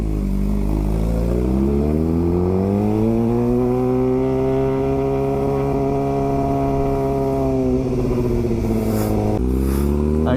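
A motorcycle with a Power Commander V and its catalytic converter removed roars loudly up close, engine pitch climbing steadily as it accelerates, holding, then dropping off before rising again.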